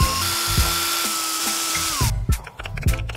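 A battery-powered drill whines at high speed while boring a series of holes, its pitch dropping under load, with repeated knocks and clatters between bursts.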